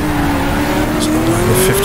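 A 1966 sports car racing at the Targa Florio in the GTR2 video game downshifts, its steady engine drone shifting in pitch with brief higher bursts, loud and close throughout.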